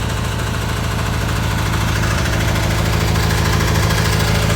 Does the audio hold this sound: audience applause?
no